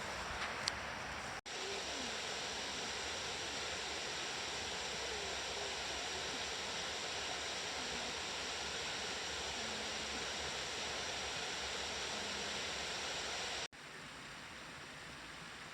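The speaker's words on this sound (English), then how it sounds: "Another nice waterfall." Constant roaring wash of a waterfall in Franklin Gulf Park in autumn, dense and steady for the whole stretch, with no voices over it.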